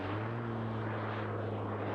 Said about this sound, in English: you can hear him revving the engine